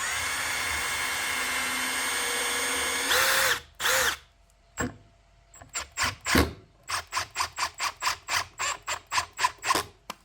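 A power drill whirs briefly, then an impact driver rattles in a series of short, rapid bursts driving screws into a wooden bike jump, close up with no talking.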